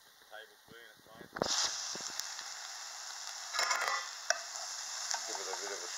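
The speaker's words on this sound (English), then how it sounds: "Throw me mushrooms in." Mushrooms hit a hot pan and start to sizzle in a sudden hiss that settles into steady frying, with stirring scrapes and a short voice heard over it.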